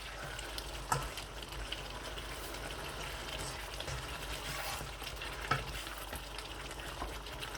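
Desi chicken frying in ghee and masala in a pan, a soft steady sizzle with occasional stirring knocks, low and close, no talk.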